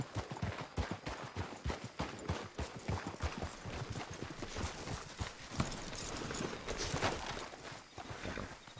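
Horses ridden in a video game clip-clop on the ground, a dense run of hoofbeats that slows as the riders dismount, with the rhythm loosening and softening toward the end.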